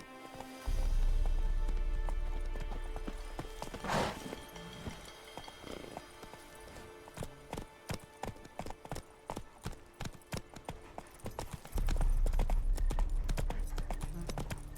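Roach the horse galloping in The Witcher 3, a rapid rhythmic clip-clop of hooves in the middle stretch, framed by low rumbling wind-like noise at the start and end.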